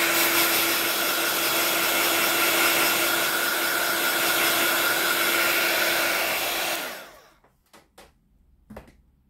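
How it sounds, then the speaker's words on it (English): Heat gun blowing hot air at close range, a loud steady roaring hiss with a faint whine, running for about seven seconds before switching off, followed by a few soft knocks. "put the heat gun over it"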